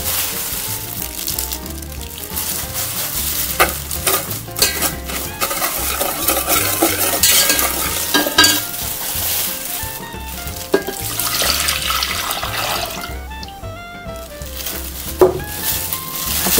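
Ingredient mixture for an imitation young-coconut ice drink with jelly, pandan and soaked basil seeds, stirred in a pot until dissolved, giving a steady scraping, swishing churn with occasional clinks of utensil on metal, fairly loud and continuous.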